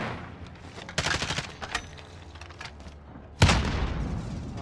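Bursts of gunfire in the video game Call of Duty: Warzone, a cluster of quick shots early on, then a louder sharp blast near the end, fairly close with no talk.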